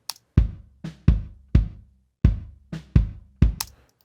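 A single second bass drum microphone, soloed with flat EQ, carries a steady run of about seven close kick hits with a boxy low thump and quick decay, heard alone without voices.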